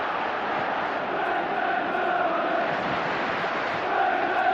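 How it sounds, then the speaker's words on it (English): A huge football stadium crowd at a Manchester United vs Barcelona Champions League night roars as a continuous dense wall of chanting and noise that swells slightly throughout. "Listen to this crowd."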